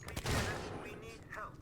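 A revolver fires in the Alien: Isolation video game, a sharp blast with a ringing, echoing tail, followed by a metallic mechanical click, close and fairly loud.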